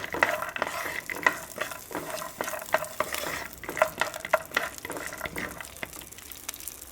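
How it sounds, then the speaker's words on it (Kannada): Peanuts frying in oil for a thick poha mixture snack, with a steady close sizzle broken by frequent sharp stirring scrapes and clicks, thinning out toward the end. "ಇದನ್ನು ನಾವೀಗ ಚೆನ್ನಾಗಿ ಫ್ರೈ ಮಾಡಿಕೊಳ್ಳುವ ಈ ಎಣ್ಣೆಯಲ್ಲಿ"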